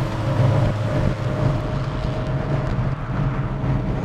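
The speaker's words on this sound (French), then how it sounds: "T'as vu ce moteur en plus, il fait un beau petit bruit finalement." A Ford Escort RS2000 Mk2 with its Pinto engine runs steadily at a loud, constant drone, heard from close by with wind buffeting the microphone.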